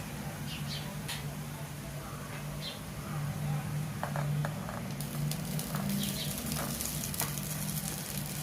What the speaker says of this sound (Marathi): आता ह्याच्यात आपण शिजलेला जो भात आहे तो घालूया